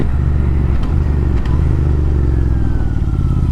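A modified Royal Enfield Interceptor 650 with aftermarket exhausts drones loudly and steadily close by, a deep throaty exhaust with a faint rising whine, no talking.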